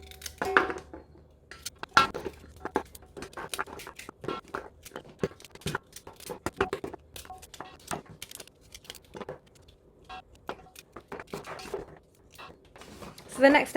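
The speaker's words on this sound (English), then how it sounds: "I'm just going to chop it into smaller pieces." Cassava root being chopped into smaller pieces in a home kitchen, a series of sharp, irregular knife knocks on a board, close and fairly quiet, with brief pauses between cuts.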